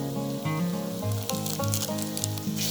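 Spice masala with half a spoon of chilli powder frying in a pan for dhaba-style tadka, giving a soft sizzle under a steady tonal hum, with light crackles and patters close by.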